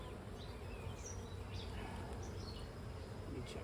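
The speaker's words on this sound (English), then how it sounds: "bees are, even though they're buzzing me a little bit, they don't seem to be too aggressive" Honey bees buzz around a beekeeper inspecting brood frames, a faint steady hum with a few closer passes drifting in and out.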